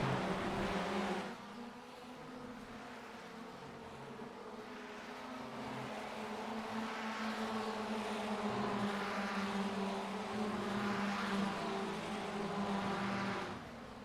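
Formula Ford 1600 open-wheel race cars at Virginia International Raceway in iRacing, a steady, buzzing engine drone held for the whole stretch as cars run wheel to wheel for the lead, pitch rising and falling with no talk.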